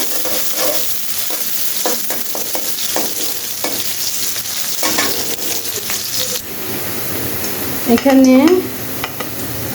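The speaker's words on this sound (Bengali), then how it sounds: "তেলটা একটু গরম হলে আমি পেঁয়াজ কুচিটা দিয়ে দিব। পেঁয়াজটা একটু লাল লাল করে ভেজে নিতে হবে।" Chopped onion fries in hot oil, a dense steady sizzle with intermittent stirring clicks, briefly joined by a spoken word and a louder scraping burst near the end.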